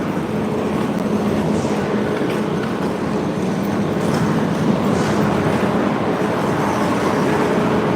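Passenger train hauled by locomotive 1842 rolling through South Station, a steady loud rumble with rhythmic clickety-clack of wheels over rail joints, close by and continuous with no talking.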